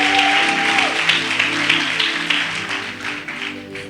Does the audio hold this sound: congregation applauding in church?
yes